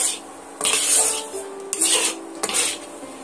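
A spoon stirs and scrapes semolina in a metal pan while water is added little by little, giving bursts of rasping scrapes and soft clinks with quieter moments between them; no one speaks.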